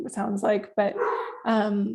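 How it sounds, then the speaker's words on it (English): A dog barks several times in quick succession nearby, loud, with yips mixed in and a person speaking over it during a remote interview. "sorry for the dog barking."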